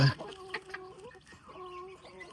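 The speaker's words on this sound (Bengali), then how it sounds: "ওই যে মুরগি এদের বাচ্চা" A hen clucks softly while newly hatched chicks give thin, high peeps close by, with a quiet rustle in between.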